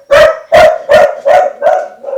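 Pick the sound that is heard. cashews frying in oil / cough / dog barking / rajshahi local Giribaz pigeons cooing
dog barking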